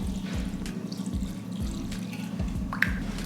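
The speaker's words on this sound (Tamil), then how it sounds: "பச்சை தண்ணி தான் ஊற்றுறேன்." Cold tap water pours and splashes in a kitchen sink over roasted vermicelli being washed, a steady running stream with small drips and clinks.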